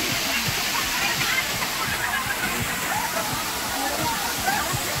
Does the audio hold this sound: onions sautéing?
no